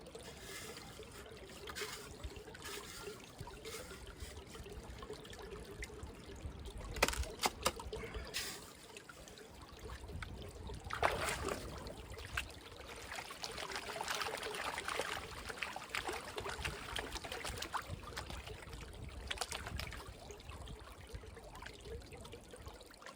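A scoop of dirt with some clay is panned in water, giving a faint, continuous trickling and swishing of water with a few louder sloshes.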